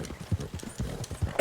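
Horse hooves clip-clop in Red Dead Redemption 2, a steady rhythmic trot of dull thuds close by, repeating several times a second with a brief brighter rustle near the end.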